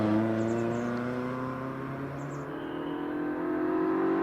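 A Mazda MX-5 climbs the Prescott hillclimb course in a practice run, its engine note steady and sustained at close range, with gear-change dips midway.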